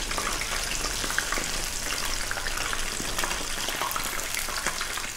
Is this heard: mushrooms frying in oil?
yes